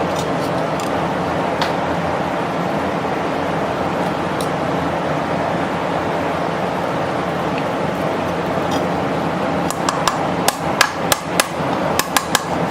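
A hammer taps the side of a nut on an antique fan under restoration: a run of sharp, close metallic knocks near the end, with a steady workshop hum underneath.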